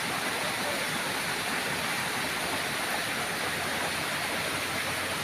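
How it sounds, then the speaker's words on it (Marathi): Steady, dense rush of water from a waterfall at a temple site, continuous and loud without any breaks, with no voices. "हो धबधबो हांगासून व्हांवता"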